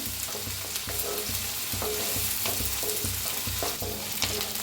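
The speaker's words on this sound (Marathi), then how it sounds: "कांद्याला छान असं भाजून घेऊया" Onions fry in a pan with a constant close sizzle, punctuated by rhythmic scraping strokes of a spatula stirring them at a steady pace.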